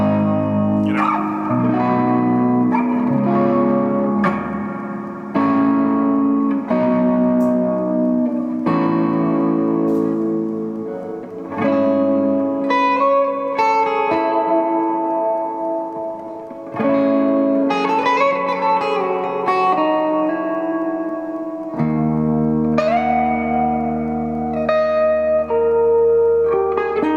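An electric guitar played on the neck pickup with the tone rolled down, running through an Orange Rockerverb 50 MK1 amp with reverb at a moderate setting, rings out sustained chords and notes with a lingering tail, loud and continuous.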